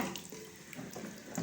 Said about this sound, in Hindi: अभी हम इसमें पानी चढ़ा देते हैं।